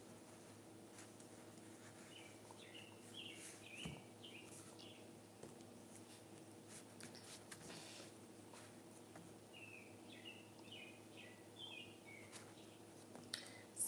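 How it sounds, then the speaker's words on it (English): A small bird chirps in quick, repeated bursts of short high notes, faint and somewhat distant, in two clusters separated by quieter stretches over a low steady background hum. "You guys hear the bird? He's chirping away."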